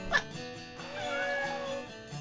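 A cartoon cat gives a short startled cry and then a longer, wavering meow in a children's animated show, fairly close and clear, with no one talking over it.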